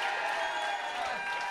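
An audience applauds and cheers in a brief, steady burst of clapping, fairly faint and without a clear start or end.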